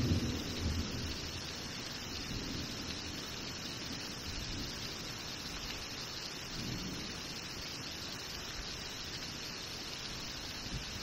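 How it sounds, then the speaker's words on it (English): Heavy downpour during a storm in Stark County, Ohio, bringing flash flooding: a dense, steady roar of rain pounding surfaces, loud and close, with low rumbles of thunder swelling through the wash and no voices. "Oh, we needed rain, but not this much."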